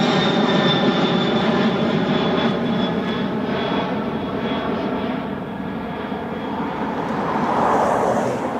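Fixed-wing airplane taking off at Portland airport and passing right overhead, a loud steady engine roar with a whining tone that holds throughout and swells again near the end.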